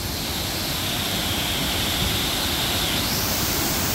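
Steady roar of rushing water, loud and unbroken throughout, like a nearby waterfall or fast river with constant broadband hiss.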